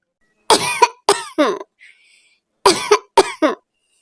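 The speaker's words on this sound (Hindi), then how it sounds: "बेटे कुकू की तबीयत खराब थी, उसको खांसी हो रही थी।" A cartoon child coughs in two short bursts of three harsh coughs each, close up, separated by a brief quiet pause.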